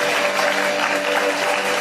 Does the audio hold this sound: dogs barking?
no